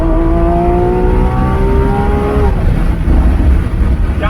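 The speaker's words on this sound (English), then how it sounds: "That is how a car should sound." A 2021 Lamborghini Aventador SVJ Roadster engine roars loudly nearby, its pitch climbing steadily as it revs hard, then breaking into a rough, throaty rumble.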